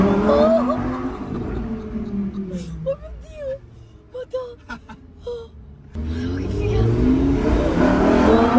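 Lamborghini engine revving nearby, a loud rising roar that fades into excited voices and squeals, then surges back to a strong sustained rev at the end.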